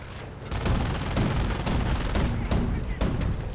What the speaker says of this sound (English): Ready with its auto cannon, firing away at the airborne.